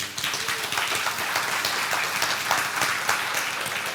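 Audience at a tech startup talk applauding the speaker, Mahmoud, from Very Good Security: steady, dense clapping from a room of people filling the whole span at even loudness, with no voices standing out.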